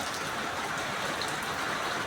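Heavy rain pours steadily outdoors in a constant, dense broadband wash with no breaks, close and fairly loud, without any voices.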